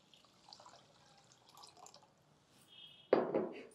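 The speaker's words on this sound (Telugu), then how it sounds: "ఒకటికి రెండు గ్లాసులు నీళ్ళు పోసేద్దాము" Water pours suddenly into a metal pressure cooker with rice near the end, a loud gushing splash after a quiet stretch of faint background sounds.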